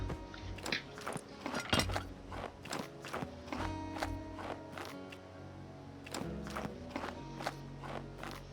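In a role-play video game a horse eats, giving a steady run of crunchy chewing and biting sounds with soft thuds like hoof steps, close and fairly quiet, with no one talking.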